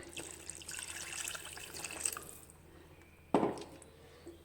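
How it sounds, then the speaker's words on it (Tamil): Water streams and splashes into a cooking pot of curry for a couple of seconds, fading off, followed by a short sharp splash and quiet trickles. "இதில் குழம்புக்கு தேவையான அளவு தண்ணி ஊற்றிக்கலாம்"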